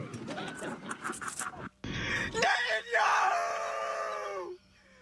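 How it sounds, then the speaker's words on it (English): Several people screaming and wailing in distress, first in ragged overlapping bursts, then a sustained, loud high-pitched wail that trails off after a few seconds. "Why are they screaming like that, bro?"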